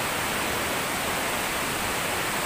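Steady, dense roar of the Tumpak Sewu waterfall fills the air without a break, a broad constant rush with no voices or other sounds.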